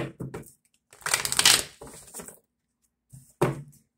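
Several bursts of crisp riffling and slapping tarot cards, a long shuffle in the middle and a shorter one near the end, fairly close with brief pauses.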